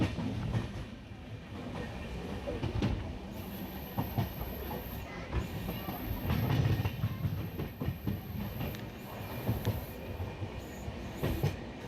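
A train rolls past Sevok station on the line toward the Teesta river, with steady rumbling wheels, rhythmic clickety-clack and brief high wheel squeals, heard close and continuous throughout.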